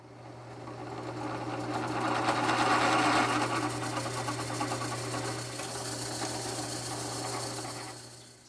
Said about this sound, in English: So I'm going to drill a hole 5/32 just to sort of help it.